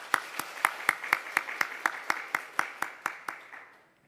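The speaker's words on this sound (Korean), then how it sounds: "함께 박수로 축하하겠습니다" Congregation in a church service claps together in a steady, even rhythm of about fifteen sharp claps that gradually fade out, close and moderately loud, with no talking.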